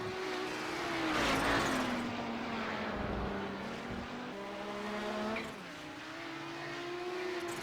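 Race cars at the Brands Hatch circuit during a GT championship round, with a Nissan going through: a sustained engine drone that swells and dips as the cars pass, shifting pitch and fading slightly, moderately distant and with no talk.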